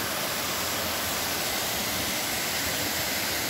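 The Cascata de Prata waterfall in Campos do Jordão, a loud, steady roar of falling water with a broad, unbroken hiss heard close by.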